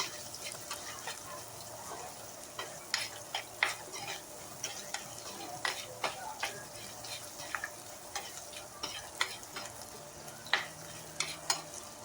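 Onions sauté in a pan with a continuous soft sizzle and frequent sharp spoon scrapes and taps from stirring, close and fairly quiet throughout.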